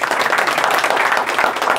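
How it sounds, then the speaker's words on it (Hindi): Dense audience applause fills the whole stretch, a steady broadband wash of many hands clapping at a talk or gathering, loud and continuous with no clear breaks. "यस, जर के लिए जोरदार तालियां।"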